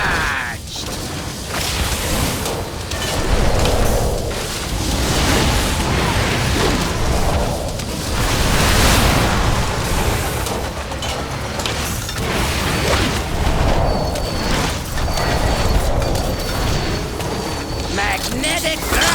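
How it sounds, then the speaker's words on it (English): Boss cannon firing in World of Warcraft's Operation: Mechagon Workshop, heavy booms and bursts repeating through a dense mix of combat effects, whooshes and mechanical clatter, with a voice speaking over it. "Cannon fully charged!"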